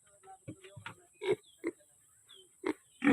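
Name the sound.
pigs grunting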